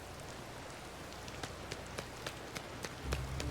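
Steady light rain patters in the Disney Dreamlight Valley video game, a soft, even hiss with scattered sharper drops and a brief heavier thump near the end, with no voices.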